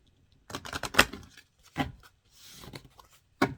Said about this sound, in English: This is such a small deck, it's hard to shuffle.